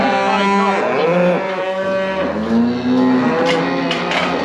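Cattle in a calving pen low in a long, loud, close moo that rises and falls over several seconds, with a second drawn-out call near the end.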